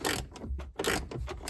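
Ratcheting 10 mm socket wrench working a bolt loose on a Jeep TJ during a cup holder install, a quick burst of clicking pawl strokes with brief pauses, close and fairly loud with no talking.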